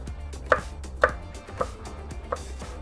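Knife slicing frozen fried tofu skin into strips on a cutting board: four crisp, evenly spaced chops about half a second apart, close up over a low background hum.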